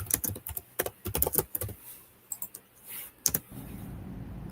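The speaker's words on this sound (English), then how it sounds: "Type that there." Rapid keystrokes clatter on a computer keyboard in uneven bursts, close and crisp, with short pauses between flurries and a faint steady hum underneath.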